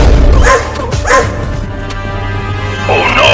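Cartoon dog barking in a chase scene: a few sharp barks near the start and end, with quieter yips between, close and loud over background sound.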